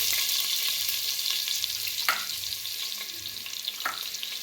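Butter melting into hot oil for Mumbai-style pav bhaji gives a steady, close hiss of frying, with a couple of sharp spatter pops, and no one talks over it.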